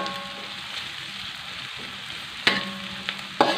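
Ingredients sauté in a pan for chicken and oyster mushroom soup porridge, a soft steady sizzle with a few sharp clinks of a utensil stirring near the end.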